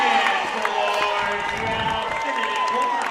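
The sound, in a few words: Juab fans cheering after a wrestling pin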